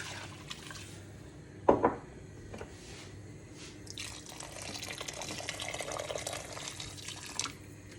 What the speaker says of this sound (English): I've had a kettle of water boiling, so I'm just going to top it up to cover everything in the pan.